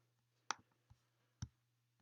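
A few quiet computer mouse clicks, two sharp ones about a second apart and fainter taps between them, over a low steady hum in a quiet room.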